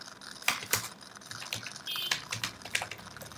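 Close, fairly quiet typing on a computer keyboard, irregular clusters of light clicky keystrokes with short pauses between them and no talking.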